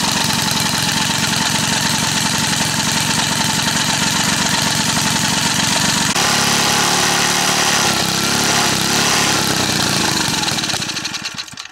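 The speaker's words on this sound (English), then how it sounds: "I'll start the engine up again and run it as long as I can until it stops again." A small gasoline engine with sugar in its fuel tank runs loudly and steadily with a rapid chugging rhythm, its pitch shifting midway before it sputters and dies at the end.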